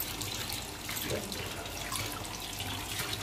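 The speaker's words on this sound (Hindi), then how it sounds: "इतना स्टीमर में पानी डालना" Water being poured into a steamer pot on a gas stove in a home kitchen, a steady splashing pour that runs throughout at moderate level.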